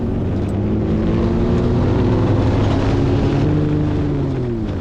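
Sand car engine revving hard while climbing a steep dune hill, a loud, sustained high-RPM drone with rising and falling harmonic whine, close and continuous, no talk.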